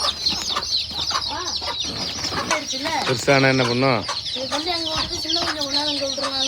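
Village hens cluck and chicks peep in a steady busy mix close by, with one louder drawn call in the middle and a person talking briefly.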